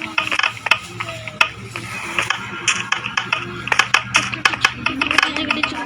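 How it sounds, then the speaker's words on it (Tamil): Rapid mechanical clicking and ratcheting from a helicopter in a Minecraft mod pack, set in a Tony Stark mansion, with sharp repeated ticks and whirring over a steady low drone, fairly close. "கடைசியில் பார்த்தா இது ஹெலிகாப்டராக இருக்குது."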